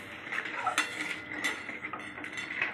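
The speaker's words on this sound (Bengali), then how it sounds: "দইয়ের বাটি ধুয়ে এক বাটি জল ঢেলে দিলাম খুন্তি দিয়ে ভালো করে নেড়ে নিলাম" A metal spatula stirs and scrapes against a bowl of water in a kitchen while yogurt curry is being made, giving irregular light clinks and taps up close, with faint talk underneath.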